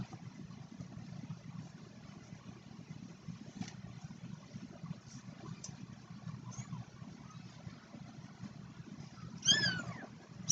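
Two-week-old kittens give high, thin meows near the end, a short burst of several cries over a quiet, low-rumbling room, with no one speaking.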